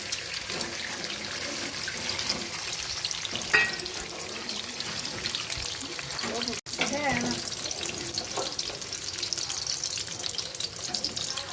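Eggs are scrambled in a frying pan with onions, giving a continuous close sizzle with a few scraping stirs and a brief knock partway through.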